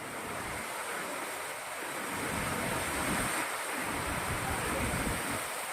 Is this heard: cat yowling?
no